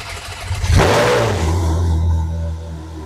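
A Ferrari's engine revs hard outdoors, climbing sharply in a loud burst before settling into a steady, throaty idle close by.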